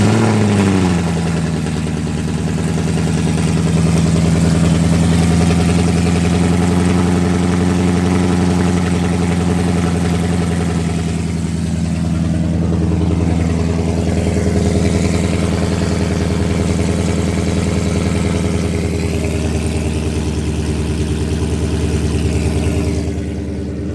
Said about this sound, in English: Let's give this thing a cold start and then let's see.